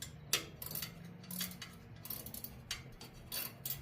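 A ratcheting end wrench turns bolts on an old fire truck radiator, giving faint, irregular clicking and ratcheting bursts over a low background hum.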